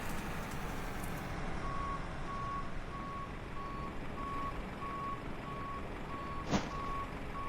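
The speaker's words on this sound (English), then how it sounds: "Come our little cargo trucks." Steady electronic reversing beeps from a cargo truck in Microsoft Flight Simulator 2020, repeating at an even pace over constant background rumble, with one brief louder click near the end.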